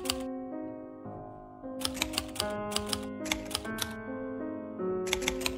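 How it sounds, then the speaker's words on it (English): Keys clack on a typewriter in short irregular bursts with pauses between them, close and fairly quiet, over a steady background tone, with no voices. "so I'm gonna type that out"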